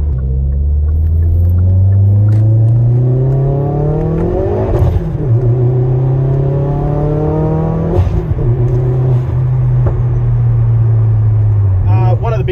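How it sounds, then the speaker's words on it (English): A Hyundai i30 N fitted with a big turbo kit drives, its engine droning loud and close as revs rise and fall in several smooth pulls, with a voice talking over it. "So we've just got to take it for a little bit of a short drive, get rid of those yellow lights, and then we can start giving it a bootful."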